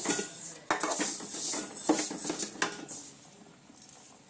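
Metallic clatter and scraping as a tin is pulled out, with several sharp clinks and knocks in quick succession, close by.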